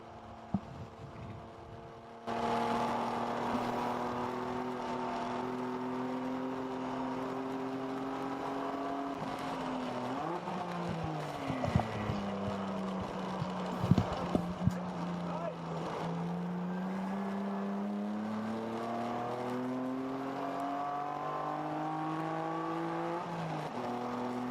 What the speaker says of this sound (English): Turn up the engine notes here so you can hear a little bit.